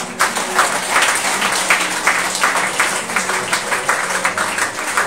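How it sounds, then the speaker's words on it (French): A church congregation at a Sunday service applauds loudly, with dense, steady clapping that holds for about five seconds. "Acclame très fort pour toi"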